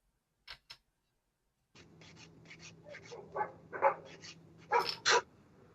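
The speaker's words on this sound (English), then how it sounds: "There's a dog in my garage." A dog barks inside or just outside a garage. Two short, sharp barks come first, then a run of louder barks and panting over a low hum. It sounds fairly close.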